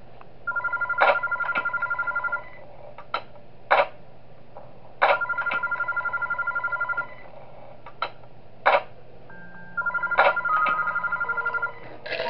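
A telephone in the video game Those Nights At Wario's 3 rings in repeated electronic bursts with sharp clicks between them, fairly loud with no voices.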